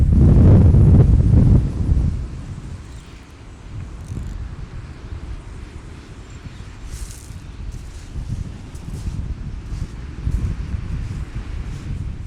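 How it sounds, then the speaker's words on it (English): Strong gusting wind, around 35 mph, buffets the microphone while someone fishes, a loud roaring blast at first, then easing into a rough, fluctuating rumble that keeps surging throughout. "The wind is blowing it me this way."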